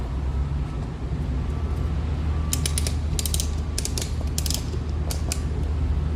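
A portable bead breaker unseating an aircraft tire, a continuous low mechanical groan with sharp ratcheting creaks in short bursts, close and fairly loud.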